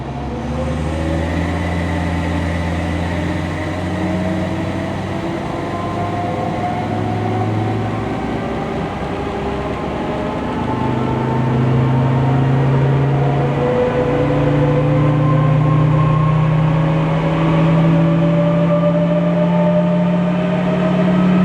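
Land Rover Defender Td5 90 diesel fitted with a Darkside Developments turbo kit, running on a dyno, with a loud, steady engine drone and rising harmonic tones as revs climb, building slightly louder toward the end.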